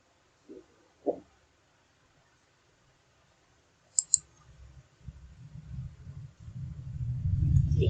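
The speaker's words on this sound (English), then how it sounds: "Click on your ID which you used" A few sharp, faint computer mouse clicks in an otherwise quiet room, two early single clicks and a quick double click, followed by low rumbling background noise.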